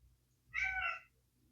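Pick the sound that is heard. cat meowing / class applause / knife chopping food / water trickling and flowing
cat meowing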